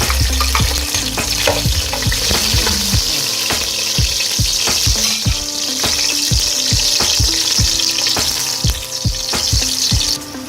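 Chopped garlic fries in a pan of oil with a steady sizzle, while a utensil clicks and scrapes against the pan in an irregular rhythm throughout.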